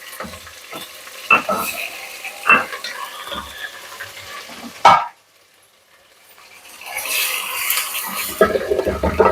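Ginger paste frying with onions in hot oil for chicken biryani, a steady close sizzle broken by scraping stirs, dropping out briefly in the middle before the frying hiss builds again.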